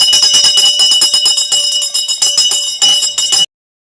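A loud electric school bell rings continuously on the first day of school, with a harsh metallic clatter for about three and a half seconds, then cuts off abruptly into silence.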